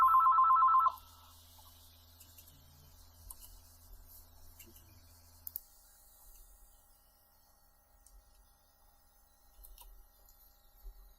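A telephone rings with an incoming call: a brief, loud trilling ring at the start, then it stops and only faint background hum remains for the rest.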